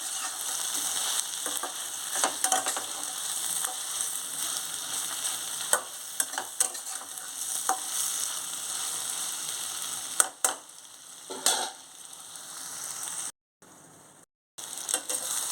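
Eggplant pieces fry in a covered pan, giving a steady soft sizzle with occasional clicks and clatters of the lid and utensil, briefly dropping out near the end.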